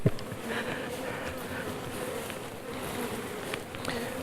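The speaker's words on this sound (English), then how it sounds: "And the bees are being fed, ready to go through the winter." Honey bees buzz steadily in a dense, continuous drone at an apiary where colonies are being fed for winter, with individual bees passing close by, no voices.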